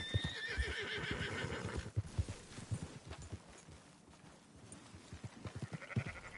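Horses whinny and snort while sheep bleat nearby in the video game Red Dead Redemption 2, with hooves clopping in a busy livestock scene, fairly loud and continuous.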